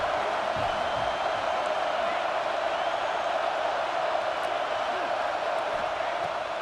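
A stadium crowd roars at a Notre Dame at Michigan State college football game, a dense, steady wash of cheering and noise that stays even and unbroken throughout.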